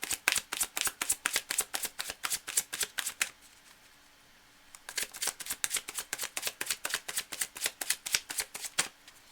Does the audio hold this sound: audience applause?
no